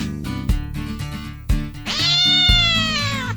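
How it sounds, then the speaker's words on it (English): A house cat sprung out from hiding lets out a long, loud, drawn-out meow after a few soft knocking sounds, the cry sustained for well over a second. "A cat that Tom had hidden there sprung out at Aunt Polly"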